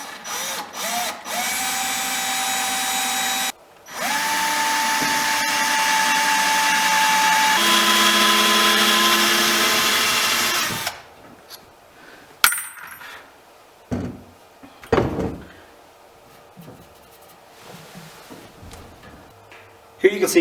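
A power drill bores a small pilot hole into a boat's wooden tiller for an autopilot pin, with a steady whining run of several seconds, brief stops and restarts, then quieter clicks and handling knocks at close range.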